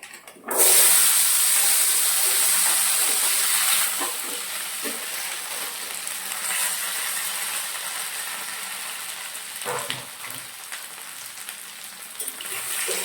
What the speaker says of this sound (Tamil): நல்லா பொரிச்சு கிளம்புங்க இப்போ இதில் போட்டுட்டோம்